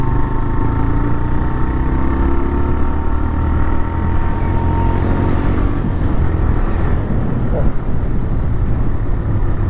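A TVS Raider 125 motorcycle with 25,000 km on it cruises steadily, its engine a continuous low hum with a faint rising whine, wind rush constant throughout and no talking.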